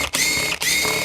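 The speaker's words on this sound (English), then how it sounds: "first step is we have to remove these 5 screws" A ratchet turns while removing screws on a Mercedes C63 AMG engine, giving two loud, close bursts of rapid buzzing clicks separated by brief pauses.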